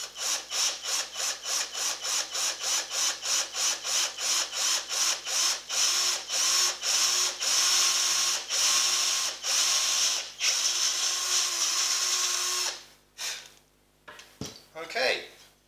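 A power drill runs in rapid bursts, its sharp bit grinding and chattering through wood for a sanshin build in a steady pulsing rhythm, close up, then stops with brief rustling.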